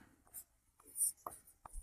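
A few short, faint strokes of writing on a classroom board, tapping and scraping in separate bursts close by, without talking.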